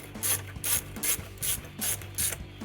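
Ratchet on the belt tensioner of a 2011-2016 Ford Mustang V6, six quick evenly spaced clicking bursts, close and loud, with no voices.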